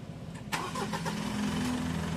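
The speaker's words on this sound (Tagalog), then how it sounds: "Tapos ipa-start ko siya ulit." A Mitsubishi Montero engine cranks briefly and catches, then settles into a steady mid-pitched idle, close and alone.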